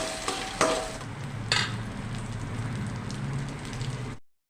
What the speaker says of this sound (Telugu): మనం ఫస్ట్ అయితే పచ్చిమిర్చి వేసుకొని వేయించుకోవాలండి.